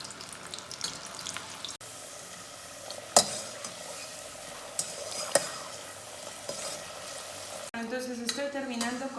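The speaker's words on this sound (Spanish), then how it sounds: "vamos a continuar con la fritura de las noisettes" Potato noisettes, a thicker cut than chips, deep frying in hot oil, giving a steady close bubbling sizzle with a few sharp clinks and stirring knocks, and a brief watery tap-like rush near the end.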